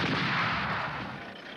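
An artillery battery fires rounds in a fire-for-effect mission against a moving PT-76 target, heard as one heavy, broad blast whose rumble rolls on and slowly fades over the short moment, with no talking.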